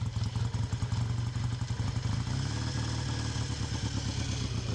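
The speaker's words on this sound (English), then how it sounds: "So we'll give her a kick and hopefully something happens and fire up into life." A kick-started motorcycle engine runs close by, loud and steady with a rapid, uneven chugging beat and clattering mechanical noise, alone without talk.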